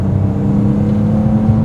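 A BMW S54-engined Z3M Coupe fitted with Supersprint headers cruising on the road, a steady droning exhaust hum with a constant low tone, close and even.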